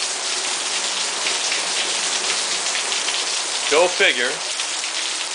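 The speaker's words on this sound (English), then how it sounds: "I get it out again today, and what is it doing? Raining like crazy." Heavy rain in Florida pours steadily and loudly, a dense continuous wash of drops on surfaces throughout; someone speaks briefly near the end over the downpour.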